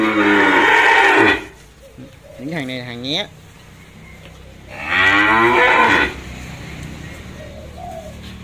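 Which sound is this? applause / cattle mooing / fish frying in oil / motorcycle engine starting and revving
cattle mooing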